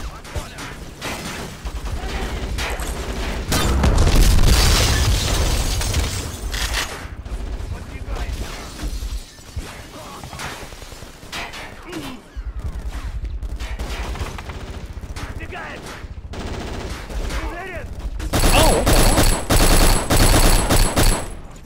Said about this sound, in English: Yeah, it's a grenade launcher.